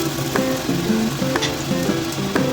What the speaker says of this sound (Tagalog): So umpisa na nating mag-gisa guys.